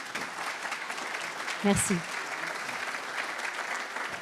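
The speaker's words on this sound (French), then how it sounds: "On peut l'applaudir très fort." An audience at a breakfast talk event applauds in a steady, sustained wash of clapping, with a brief spoken word heard over it partway through.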